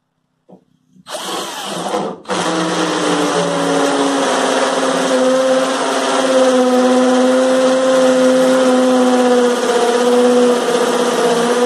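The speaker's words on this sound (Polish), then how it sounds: "spróbujmy to przewiercić na wylot" A NITEO Tools 20V cordless impact drill spins up after a brief start and stop, then drills steadily through the workpiece with a loud, sustained whining buzz that holds nearly constant pitch, close by and alone.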